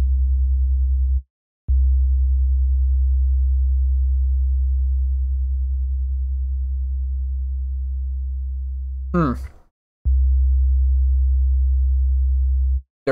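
A steady synthesized sine-like tone from FL Studio with a tremolo effect, holding low and sustained with brief cutoffs, then a short chirping sweep before the tone returns.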